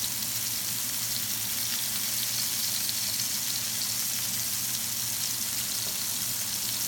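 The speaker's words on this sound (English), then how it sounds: "So we just let them cook nice and beautiful for 3 minutes on each side." Homemade hamburger patties frying in a pan, giving a steady, even sizzle that carries on without a break and without talk.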